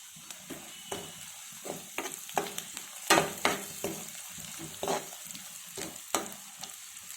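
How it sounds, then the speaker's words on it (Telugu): Onions fry in a pan with a soft continuous sizzle, broken by irregular spoon scrapes and stirring clinks, some sharper and closer, spread across the whole stretch with no voices. "5 మినిట్స్ అయితే ఉల్లిపాయలు వేగిపోతున్నాయి."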